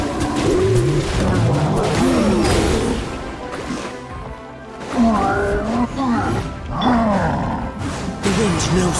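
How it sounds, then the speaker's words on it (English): Birds call in the Genshin Impact game, their cooing, pigeon-like notes repeating in bursts over a busy, loud mix of game sounds and voices. "The birds call."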